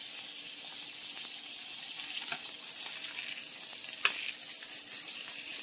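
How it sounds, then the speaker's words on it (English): Pork sizzles in a hot pan as tongs flip it, a steady bright hissing frying sound with a few soft clicks and scrapes of the tongs. "I got my tongs to flip over"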